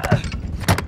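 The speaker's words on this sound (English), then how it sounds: "Changing mag." A magazine being reloaded in the video game Call of Duty: Modern Warfare II produces two quick metallic clicks, close and loud, roughly half a second apart.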